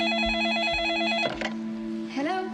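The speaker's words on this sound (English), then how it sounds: "Fred Walton deliberately and brilliantly subverts audience expectations with the ringing phone and it seemingly being a wrong number" An old-fashioned telephone bell rings in a steady warbling trill in the opening scene of a made-for-television horror film, then cuts off abruptly as a brief clatter and a short sliding tone follow.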